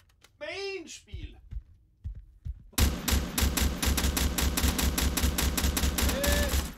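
Rapid automatic gunfire in the video game Dysterra, a dense, loud, even-paced burst after a short voiced exclamation and a few knocks, continuing for about four seconds.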